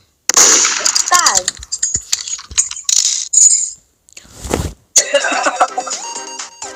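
Sharp electronic gunshot effects fire in quick bursts with clicks and metallic clangs, interspersed with game sound effects and brief pauses.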